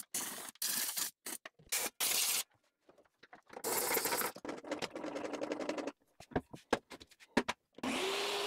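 A vacuum nozzle pulls sawdust out of a circular saw that last cut an old pallet, coming in loud, broken bursts of suction with brief gaps and rattling clatter between them.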